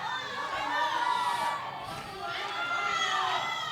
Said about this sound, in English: the whole Puerto Rico is cheering for her